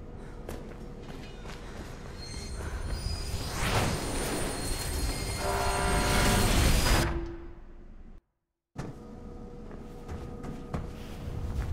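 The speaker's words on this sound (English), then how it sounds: "There's a train coming behind you." A train rushes through a tunnel in the Mirror's Edge video game, its roar swelling louder over several seconds to a close peak, then cutting off abruptly into brief silence before quieter ambience resumes.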